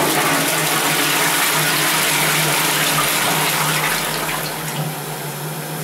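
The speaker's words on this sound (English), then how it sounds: "so you could see how a Croatian toilet flushes at the local auto camp here" Toilet flushing in a washroom at a local auto camp in Croatia, a loud continuous rush of water close by that holds steady for several seconds, then eases slightly as the tank refills.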